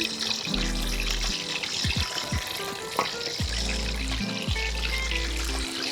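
Amritsari fish pieces going into hot oil on a high flame, giving a steady close sizzle with bursts of bubbling and a few clinks, no voices.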